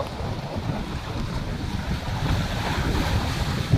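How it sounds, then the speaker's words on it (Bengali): Big sea waves crashing near a fishing trawler on a rainy, windy coast, a continuous loud rumbling wash with heavy wind noise on the microphone. "বিশাল বড় বড় ঢেউ এসে এখন আসলে পড়তেছে এখানে।"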